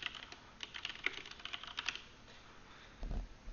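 Typing on a computer keyboard while entering a search in a cloud web portal: a quick run of light, close key clicks that fades, followed by a soft thump.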